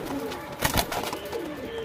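Pigeons of racing and fancy breeds, including young male and female birds, coo softly nearby in a low, throaty, repeated call, with a brief louder flutter partway through.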